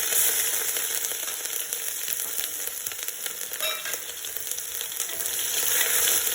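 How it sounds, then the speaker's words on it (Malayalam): Ginger garlic paste fries in hot oil for a Kerala-style white chickpea curry, giving a dense, continuous, close sizzle at a steady level throughout, with no voices. "ഈ ഇഞ്ചി വെളുത്തുള്ളി ഒന്ന് നന്നായിട്ട് മൊരിഞ്ഞ് വരണം കേട്ടോ"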